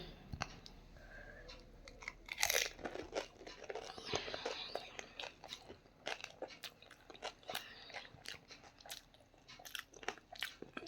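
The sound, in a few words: crunchy snack being eaten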